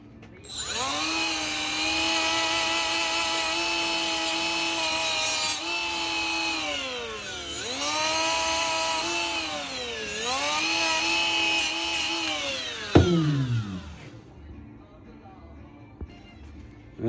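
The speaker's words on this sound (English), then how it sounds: "I'll just clean up as much as I can with the die grinder" Die grinder smoothing a metal tattoo machine frame, a loud high-pitched motor whine that dips repeatedly under load and recovers, in several sustained passes with a sharp knock near the end before spinning down.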